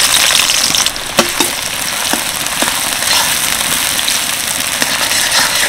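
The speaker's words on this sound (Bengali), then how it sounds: "তো এখন আমি দিয়ে দিচ্ছি পেঁয়াজ কুচি।" Chopped onions fry loudly in hot oil and ghee over high heat, giving a dense, continuous crackling sizzle close by. A few sharp spatters and pops stand out, and no one talks.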